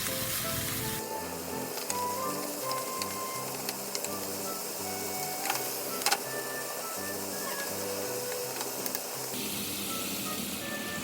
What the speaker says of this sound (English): Pouring oil and frying garlic on a low heat. Then frying meat on a high heat